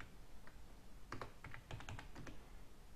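Quick bursts of keystrokes on a computer keyboard while entering text into a SolidWorks drawing, soft and close, with several clustered taps in the middle and quiet pauses around them.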